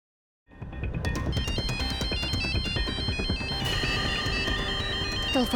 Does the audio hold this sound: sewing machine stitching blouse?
no